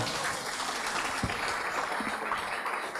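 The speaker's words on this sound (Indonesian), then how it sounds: "kita beri aplaus kepada Ibu Menteri Keuangan" An Indonesian audience claps for the Minister of Finance at a talk on state property management: an even, moderately loud patter of applause that runs the whole time, with a brief low thump partway through.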